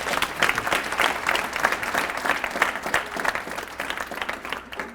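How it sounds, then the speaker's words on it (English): An audience applauds after a sales and go-to-market talk, dense continuous clapping from a crowd held at an even level for the whole stretch, with no voices over it. "A round of applause for me."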